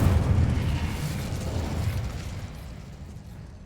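Incendio fire spell cast in the Hogwarts Legacy video game, a loud fiery burst and rumbling whoosh that decays steadily over a few seconds with no talk.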